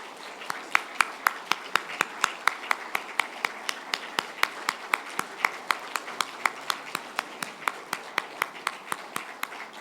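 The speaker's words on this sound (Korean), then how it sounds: "우리 큰 박수로 축하해 주시면 감사하겠습니다." A church congregation at a pastor's installation thanksgiving service claps in a steady, even rhythm for about ten seconds, each clap distinct and moderately close.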